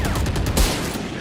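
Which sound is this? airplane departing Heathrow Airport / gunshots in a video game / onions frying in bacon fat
gunshots in a video game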